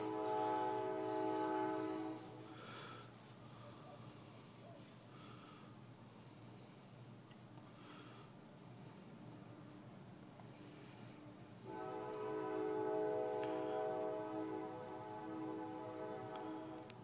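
A train passes with a loud horn blast at the start and another near the end, its rumbling rail noise steady in between, heard alone without voices.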